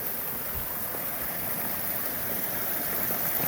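Steady rushing water, a broad continuous roar of a stream cascading nearby on the Appalachian Trail, with no voices.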